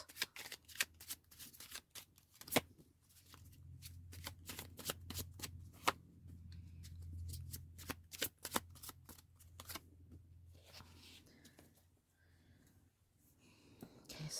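Tarot cards are shuffled up close in a quiet room, a run of crisp riffling snaps and soft slaps, irregular bursts with pauses, faint breathy whispering now and then.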